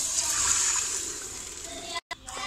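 Water poured into a cooking pot of kale chane (black chickpeas), a steady splashing pour with a brief break near the end.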